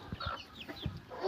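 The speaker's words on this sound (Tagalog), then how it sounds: "Magpapakain na siya ng kanyang chicken." Backyard chickens at morning feeding time give a few soft, short clucks, faint and close together over a brief moment.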